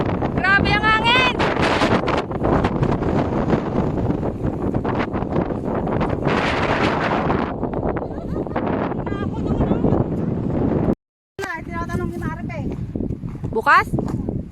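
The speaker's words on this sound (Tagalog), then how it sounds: "Grabe ang hangin!" Strong gusts of wind buffet the microphone high on Sharp Peak mountain, a loud roaring rush that fills most of the clip, with people talking and exclaiming over it and a brief dropout near the end.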